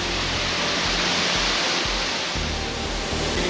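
Broadband roar of a waterfall in rain, close and steady throughout, loud and unbroken with no voices.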